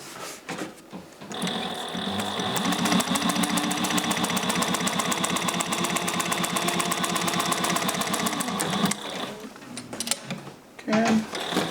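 A Juki 1541S walking-foot sewing machine stitches through six layers of 1000D Cordura, a loud, steady rapid mechanical chatter running for about seven seconds, with a few quieter clunks and handling noises before and after.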